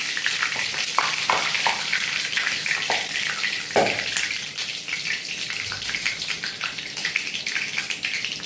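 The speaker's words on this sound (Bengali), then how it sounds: "এবার আমি গোটা মশলাগুলো দিয়ে দেবো তেলের মধ্যে।" Whole spices fry in hot oil for a chicken curry, giving a constant close crackling sizzle with scattered pops and faint stirring taps, and no voices.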